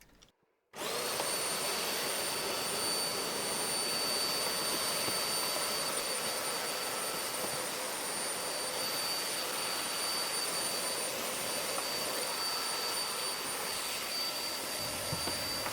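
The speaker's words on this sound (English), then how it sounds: "as soon as I vacuum this floor up" A vacuum cleaner switches on after a moment and runs continuously with a loud, steady high-pitched roar.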